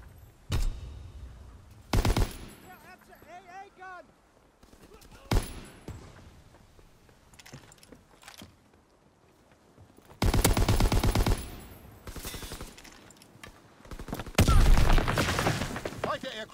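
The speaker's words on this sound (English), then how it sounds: "Yeah, that's an AA gun!" An anti-aircraft gun in the Call of Duty WWII video game fires several loud, booming bursts of rapid shots between quieter stretches, with in-game voices and battle noise around them.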